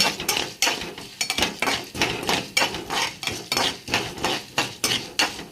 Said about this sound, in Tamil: இப்போ உளுத்தம்பருப்பு போட்டு இதை வறுத்து எடுத்துக்கோங்க